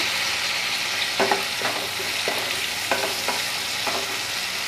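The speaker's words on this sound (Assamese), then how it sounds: "আৰু এইখিনিও অলপ ভাজি ল'ম বিলাহীখিনি।" Steady sizzling of tomatoes frying in a hot pan with a few spaced stirring scrapes and clinks, no voices.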